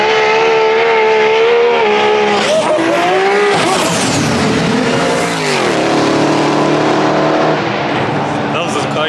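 Race cars at a Sydney roll racing event speed past with rising, falling engine whine and tyre noise, loud and close, while people talk excitedly over the top.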